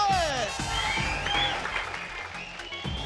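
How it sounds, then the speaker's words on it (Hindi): A studio audience applauds loudly to welcome the three dance masters on the Dance India Dance Season 2 stage, with steady sustained clapping and cheering under bright music and a voice. "और हमारे तीनों मास्टर्स के लिए तो जोरदार तालियों से स्वागत कीजिए"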